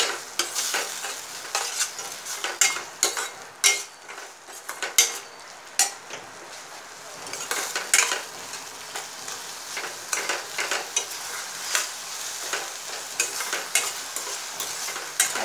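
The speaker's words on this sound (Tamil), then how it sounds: "மிளகாய்த்தூள், மஞ்சத்தூள், உப்பு எல்லாம் போட்டு நல்லா மிக்ஸ் பண்ணிடுங்க" A utensil scrapes and clatters in a hot pan as chilli powder, turmeric and salt are stirred for Tamil ellu kulambu, with steady sizzling frying underneath and irregular clinks throughout.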